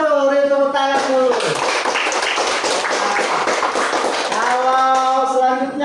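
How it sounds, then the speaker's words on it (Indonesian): Students in a classroom break into a burst of hand clapping, a dense flurry of claps lasting a few seconds, framed by a voice talking before and after. "Beri tepuk tangan dulu."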